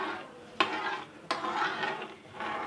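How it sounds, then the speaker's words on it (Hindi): Spoon stirring homemade chocolate syrup in a pan, a continuous close scraping swirl marked by two sharp knocks against the pan's side. "चम्मच मुसलसल चलाना है"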